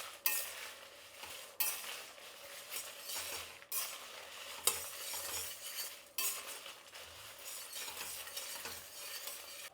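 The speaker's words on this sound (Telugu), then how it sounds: "ఇప్పుడు ఇవన్నీ కొంచెంసేపు వేయించుకుందాం, ఒక 2 నిమిషాలు." Coriander seeds and spices fry in a pan while being stirred, with bursts of dry sizzling and scraping, a few metal clinks against the pan, and quieter gaps between the strokes.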